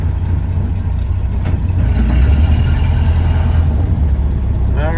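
A Ford Model A pickup engine pulling away in first gear gives a loud, close, steady low rumble with some wind noise and no pause.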